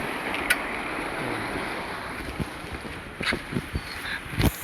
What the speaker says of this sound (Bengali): এইখানে জল বেরোচ্ছে ওদিক থেকে।